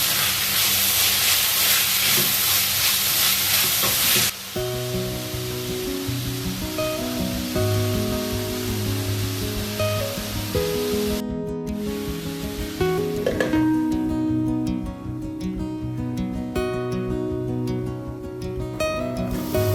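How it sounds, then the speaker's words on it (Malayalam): Onions sauté with salt in a pan for a Thrissur-style beef and banana dish. A loud, dense hiss opens the sound, then it settles into a softer, steady sizzle with faint crackles. "ഇനി നമുക്ക് ഇതിൻ്റെ പച്ചമണം എല്ലാം മാറുന്ന വരെ നന്നായിട്ട് ഇതിനെ വഴറ്റിയെടുക്കാം."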